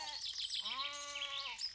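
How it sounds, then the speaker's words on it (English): Sheep bleating in a single drawn-out, wavering call with clear harmonics, heard fairly close over a steady bright background hiss, with no talk. "That's 9 sheep over there."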